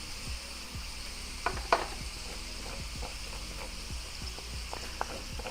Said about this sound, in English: Let's get that ginger in there.